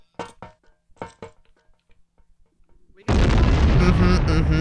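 Grenade blast in the Vietcong shooter game: a sudden loud, broadband explosion that erupts after a few seconds of sparse clicks and short sharp noises, then roars on to the end.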